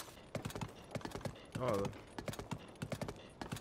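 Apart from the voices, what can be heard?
horse hooves clip-clop in Zelda: Tears of the Kingdom video game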